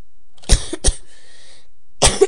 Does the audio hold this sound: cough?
yes